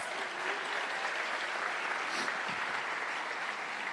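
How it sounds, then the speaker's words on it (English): Audience applause for teachers at an awards evening, a steady, dense wash of many hands clapping that holds evenly throughout with no voices on top. "Now y'all can applaud that."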